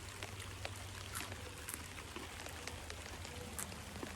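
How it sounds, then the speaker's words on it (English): Rain falls outdoors in a vegetable garden during asparagus planting, a steady broadband patter of drops with a few sharper drips near the microphone, heard alone without talk. "it's raining all over me"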